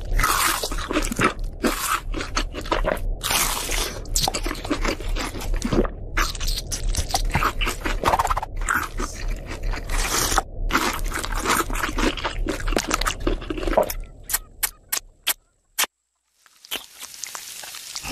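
Crunchy fried chicken being bitten and chewed in an animated cartoon: a dense run of crisp, close crunches and scrapes that continues steadily, then thins to a few isolated snaps before stopping.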